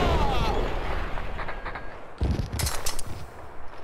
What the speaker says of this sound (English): He throws a grenade right there, right in front of us.